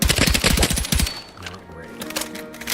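Rapid automatic fire from an old meta weapon in Battlefield 6, a loud, evenly spaced burst of shots for about a second, then quieter game sounds and a faint tone.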